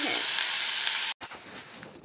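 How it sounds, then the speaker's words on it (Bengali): Beans and potatoes sizzling in a frying pan in a village kitchen, a steady, close hiss that cuts off briefly and then resumes more softly. "এই দেখো ভাজা বসিয়ে দিয়েছি।"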